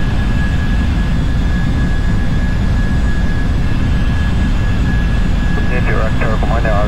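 Steady jet engine roar of a PMDG Boeing 747 in a flight simulator on ILS approach to Sydney Airport, a continuous loud drone with faint background chatter near the end.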